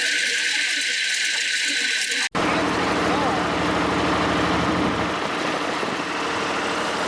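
A 1920s car engine idles steadily just after a brief cut in the sound. It runs close and loud, with a constant low rumble and a broad noisy hiss.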